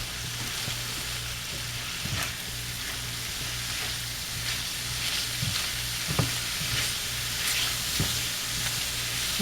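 Chicken frying in a pan as flour is stirred in, a steady sizzle under repeated scraping and clicking strokes of a utensil against the pan.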